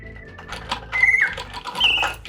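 Antique automaton built with real taxidermy birds, its clockwork whirring in a steady mechanical rhythm beneath a few short, bright whistled chirps that rise through the short stretch.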